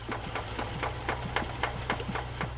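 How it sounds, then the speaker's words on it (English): A running engine knocks from a spun rod bearing in a steady, rapid rhythm, sharp metallic taps repeating deep inside over a low idling hum. "some knocking noises were heard coming from deep inside the engine"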